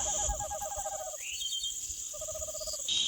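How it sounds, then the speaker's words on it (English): Owls hooting in the wild at night, a series of rapid, repeated calls in two bursts separated by a pause, fairly clear over faint insect-like background noise. "You can hear the sound of owls."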